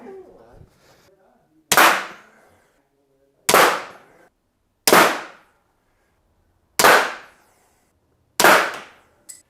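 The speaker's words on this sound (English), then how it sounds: "How about 450 feet per second with an armor-piercing projectile?" Five sharp projectile impacts strike a liquid paint-protection-film-coated panel at 450 feet per second, each a loud isolated crack with a quick decaying ring, spaced a second or two apart in otherwise quiet surroundings.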